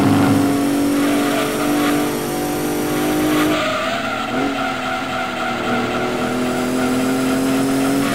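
Race car in Gran Turismo 2 engine roaring loud and steady, then a sharp drop as it brakes hard with tire squeal before revving back up, all alone without talk.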